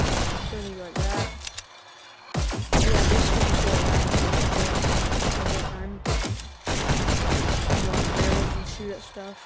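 Rapid bursts of video game gunfire in the game Hyper Dash, dense and loud, with brief pauses between volleys and a voice talking over parts of it.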